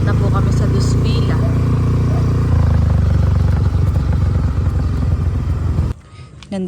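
A motorcycle being ridden drones loudly and steadily with rattling and clatter for about six seconds, then drops away abruptly near the end as the ride stops, with voices faintly present.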